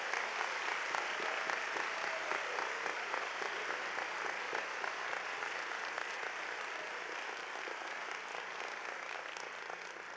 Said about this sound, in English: Let's give this distinguished group a round of applause.